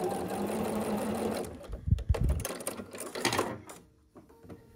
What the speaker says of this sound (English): I put my square on so that everything is lined up, and I'm gonna sew across the diagonal here.